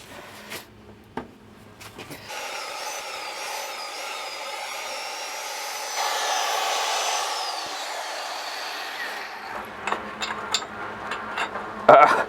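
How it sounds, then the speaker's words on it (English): A steady mechanical whine of a drill boring into a steel manifold pipe runs for several seconds, rising briefly in pitch, with a few clanks and knocks at the start and end. "my plan is to basically drill straight down and sideways into this pipe"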